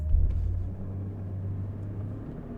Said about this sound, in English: It sounds like the viscous fan may not be entirely working.